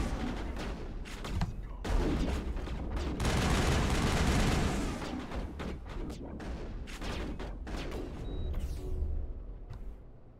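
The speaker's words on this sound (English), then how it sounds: "Who's shooting at me?" Gunfire in Mass Effect, a dense run of sharp shots and bursts, moderately loud, building to a sustained rattling barrage in the middle and then breaking back into scattered cracks.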